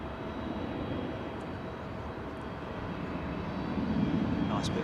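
An American airliner arriving at Heathrow from JFK gives off a broad, moderate engine rumble that swells slightly toward the end, heard at a distance and steady.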